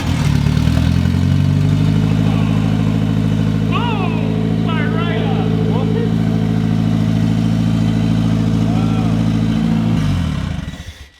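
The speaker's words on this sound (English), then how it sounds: "we should hopefully be able to fire it up, and as long as it holds an idle" A mid-engine Eclipse car starting for the first time, its engine idling steadily and loudly with a deep rumble the whole way, some higher clatter and chirps on top, before cutting off at the end.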